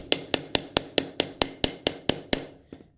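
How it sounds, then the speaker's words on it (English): Ten sharp, evenly spaced metallic strikes from a light 16-ounce hammer planishing copper, close and ringing briefly, followed by a fainter final tap. "switch back over to the lighter hammer, the little 16 ounce"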